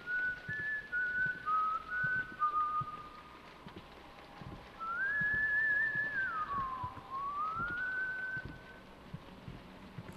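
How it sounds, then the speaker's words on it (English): A janitor character in the horror video game White Day whistles a wavering tune, a few short notes and then a longer rising-and-falling phrase, heard clearly over a steady low background hum. "You keep on whistling"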